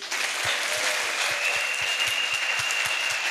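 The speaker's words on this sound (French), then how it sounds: "Acclamons Jésus-Christ." A crowd at a church crusade in Bafoussam applauds, with steady rhythmic clapping pulses over a continuous roomy wash of hands, sustained throughout.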